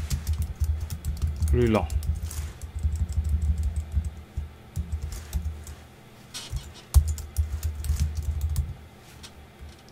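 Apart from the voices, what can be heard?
typing on a computer keyboard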